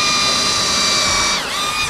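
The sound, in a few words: power drill drilling into guitar neck fixture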